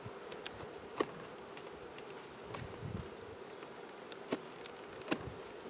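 Honeybees hum faintly around an overwintered hive, a low steady drone with a few louder passes as single bees fly close.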